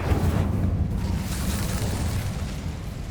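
A fire spell blast in Hogwarts Legacy, a loud, sustained roaring whoosh of flame with heavy low rumble that holds steady and slowly fades without breaking.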